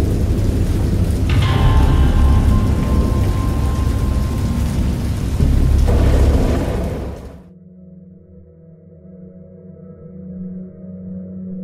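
A heavy thunderstorm in the game Dagon: dense rain pours loudly with a deep rumble of thunder swelling underneath, then cuts off abruptly, leaving a low, faint hum afterward.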